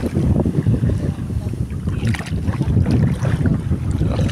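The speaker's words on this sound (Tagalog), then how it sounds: "Lakas ng alon" Loud, rough rushing of clear sea water against a fishing boat in strong waves, with steady wind buffeting, continuous churning surges close to the microphone.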